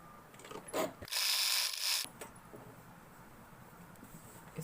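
A sewing machine stitches fabric strips together for a coaster, running in one quick whirring burst of about a second, with faint clicks before and after in a quiet room.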